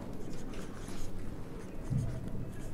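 Pen writing an accounting entry by hand, a soft continuous scratching and rubbing on paper, close but quiet, with no talking.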